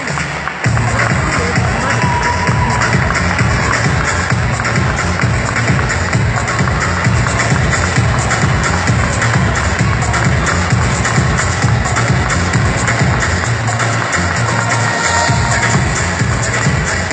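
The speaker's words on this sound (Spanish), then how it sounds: "A ver los familiares, fuerte, fuerte los aplausos." Families applaud loudly at a school graduation at EPP 10 in Río Gallegos, sustained clapping and cheering from a large crowd running throughout, mixed with hubbub and voices.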